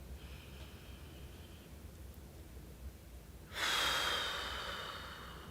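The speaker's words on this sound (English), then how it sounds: "So you take a deep breath." A person draws a slow, deep breath and then exhales hard in a long, loud rushing blow that gradually fades, close to the microphone in an otherwise quiet setting.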